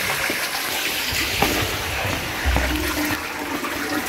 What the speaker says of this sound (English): he's flushing now